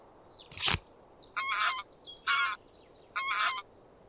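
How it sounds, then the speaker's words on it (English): Greylag goose honking in the video game Wingspan, a click followed by three clear, evenly spaced honks, close and alone. "Gray Lag Goose."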